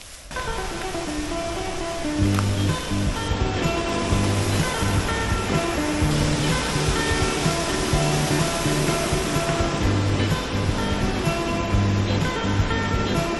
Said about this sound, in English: Little path on the side of the road that leads to a waterfall.